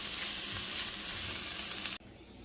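Shrimp, onions and peppers fry in the same pan, a loud, dense close-up sizzle that stops abruptly near the two-second mark, leaving a quieter hiss.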